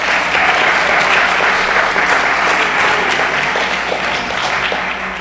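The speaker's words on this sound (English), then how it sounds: "I need you to applaud for yourselves." An audience at a climate change exchange kickoff event applauds loudly and steadily, a thick wash of many hands clapping close by for the whole stretch, with no speech over it.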